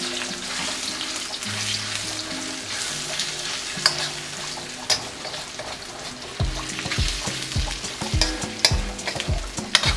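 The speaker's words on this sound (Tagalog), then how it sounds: "Prito na natin yung chicken." Chicken frying and sizzling in oil in a new pan, a steady crackle throughout with clattering stirring and scraping knocks growing busier toward the end.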